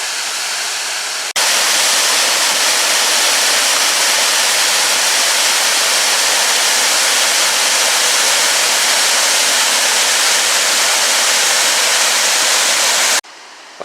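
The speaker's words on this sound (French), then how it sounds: "Voilà la cascade où on était il y a quelques secondes." Mountain waterfall near Lac du Lauzon in the Alps, a loud and steady roar of falling water, close and unbroken for over ten seconds, with quieter ambience just before and after.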